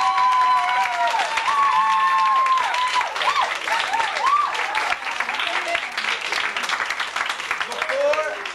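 An audience at an awards celebration breaks into loud applause and cheering, with whoops and high shouts over the clapping and voices mixed into the crowd noise, sustained for the whole stretch.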